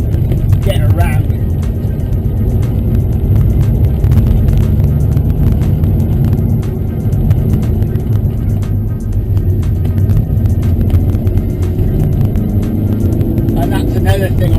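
A Ford Transit Connect Sport van on low-profile tyres climbs uphill through S-bends, heard from inside as a steady, loud engine and road drone while someone talks over it.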